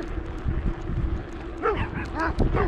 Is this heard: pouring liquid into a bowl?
no